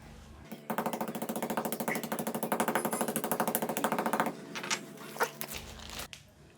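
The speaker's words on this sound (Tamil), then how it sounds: "இப்போது பச்சை கற்பூரம் நம்ம இடித்து தூள் பண்ணுது ஏலக்காவும் கிராம்பும் இடித்தது" Green camphor, cardamom and cloves are pounded into powder for herbal sambrani, a fast run of sharp, rhythmic pestle strikes, close and steady, that slows into a few scattered knocks.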